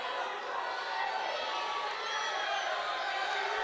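A crowd at a Purdue vs. Indiana college wrestling match cheers steadily, a broad roar from the arena that stays dense and fairly even throughout.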